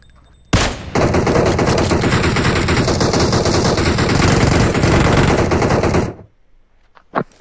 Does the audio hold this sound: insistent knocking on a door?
no